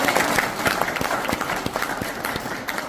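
Applause from an audience at a community meeting in Mungyeong as guests are introduced, with dense, continuous clapping close by for a few seconds.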